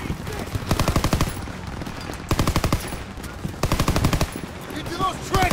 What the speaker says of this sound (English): Suppressing fire now.